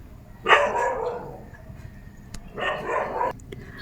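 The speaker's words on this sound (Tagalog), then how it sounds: "sobrang ingay dito sa aso namin kasi maraming aso dito kabila" A dog barks in two short bursts, fairly close, separated by a quiet pause.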